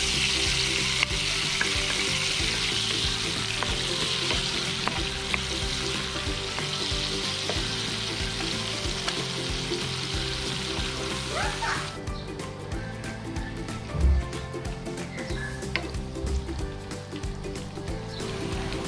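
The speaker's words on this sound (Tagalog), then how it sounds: "Lalagyan na natin yung garlic natin para hindi masunog." Garlic frying in butter in a pan for buttered garlic shrimp, a loud steady sizzle with occasional stirring scrapes, continuous and close throughout.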